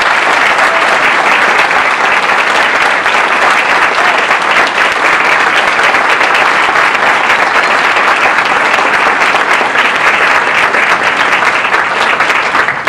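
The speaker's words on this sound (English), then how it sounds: "a round of applause" An audience at an awards event applauds in a loud, sustained, even wash of clapping from many hands that stays steady throughout without talk.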